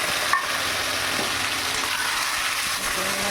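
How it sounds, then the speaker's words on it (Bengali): Prawns fry in a pan with a dense, constant sizzling hiss, loud and close, with a light tap near the start and no voices. "আমি চিংড়ি মাছটা ভেজে নেব।"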